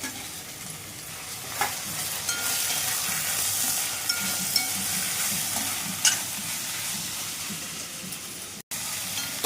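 Vegetables, with tomato added, sizzle steadily in a hot pan for veg pulao, a constant hiss broken by a few scraping stirs, close up with no voices.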